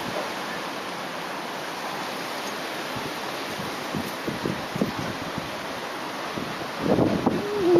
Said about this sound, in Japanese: すごい風吹いてるね。